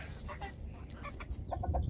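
Several chickens cluck softly nearby in short bursts, over a low background rumble.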